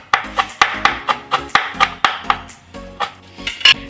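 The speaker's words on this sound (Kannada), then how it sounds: "ಈಗ ಕೊತ್ತಂಬರಿನ ಹೆಚ್ಕೊಳ್ತಾ ಇದ್ದಾರೆ" A knife chops coriander leaves on a board in a home kitchen, giving about a dozen crisp, evenly spaced taps at a brisk steady pace, close and clear with no talk.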